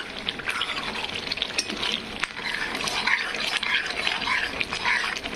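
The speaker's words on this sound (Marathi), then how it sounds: "पूर्णपणे फ्राय होत आहे" Gravy for chana dal kadhi fries in a pan, giving a steady bubbling sizzle with irregular pops and spatters heard up close.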